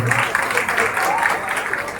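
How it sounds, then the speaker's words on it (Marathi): An audience applauds at a Marathi stage show featuring a singer and performers, a brief, dense spatter of clapping heard under a voice. "एकदा या सोहळ्यासाठी जोरदार टाळ्यावर जाऊ द्या"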